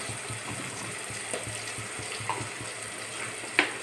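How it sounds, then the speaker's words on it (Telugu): Ginger garlic paste goes into a frying pan of sizzling tomato pieces for a Palnadu-style fish curry, giving a steady close hiss and crackle with a few soft clinks of a utensil. "అల్లం వెల్లుల్లి పేస్ట్ వేయాలండి."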